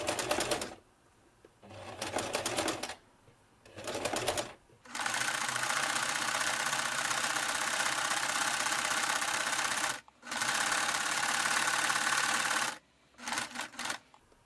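A sewing machine stitching fabric and bias binding for a mouse-shaped kitchen potholder, short stuttering bursts first, then a long continuous rattling run, a brief stop, another long run, and a few quick bursts at the end, close and alone.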